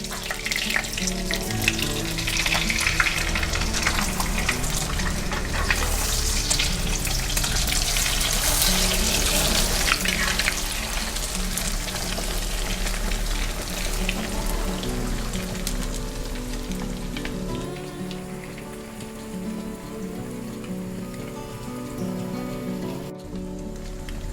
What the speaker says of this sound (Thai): พอดูว่าไข่ด้านล่างสุกดีแล้วนะคะ ก็ให้เราทำการติ๊กกลับไข่ค่ะ